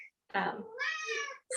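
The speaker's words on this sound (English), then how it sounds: "sorry, that's my cat" A cat meows loudly twice in quick succession, drawn-out and insistent, close by, with the start of another meow at the end.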